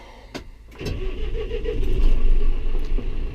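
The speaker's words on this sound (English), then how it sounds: "let's see if the tractor will crank" A John Deere 6R tractor engine cranks briefly with a whirring starter, then catches and settles into a steady, loud rumbling idle close by.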